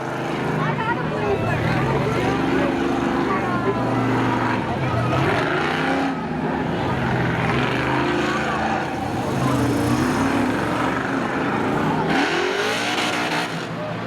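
A Jeep Cherokee and a Chevy Blazer idle and rev at a spectator drag race at Seekonk Speedway, a steady loud engine drone under an announcer's voice over a public address system.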